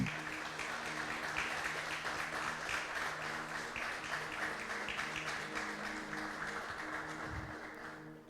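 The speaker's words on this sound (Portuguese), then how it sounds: "encerrasse de novo com uma salva de palmas que a gente fez" A church congregation applauds together, a sustained, even patter of many hands at moderate distance lasting several seconds before fading.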